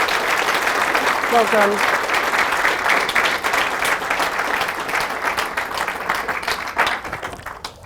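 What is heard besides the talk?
audience applause for Dean's story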